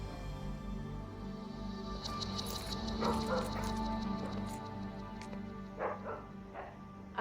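A dog barks and yips repeatedly at mid distance in a TV drama scene, with whimpering notes between bursts over a steady low background hum.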